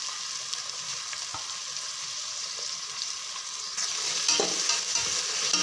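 Four to five large onions sauté in oil for a soya chunks biryani, a steady sizzle with scraping and tapping from a stirring spoon that grows louder toward the end, and no talking.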